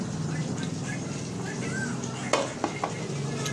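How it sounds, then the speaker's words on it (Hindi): Finger fish fries in oil with a soft sizzle under close speech, while utensils stir and clink against the pan, including a sharp clack partway through. "ये है फ्राई फ़िश अभी और फ्राई हो रही है"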